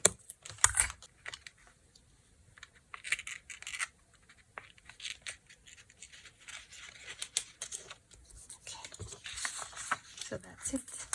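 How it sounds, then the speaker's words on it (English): A craft knife scores along a line in paper for junk journal embellishments, giving faint scratchy strokes and small clicks. A voice talks over it intermittently throughout. "I'm just going to go with my knife along this line, like that."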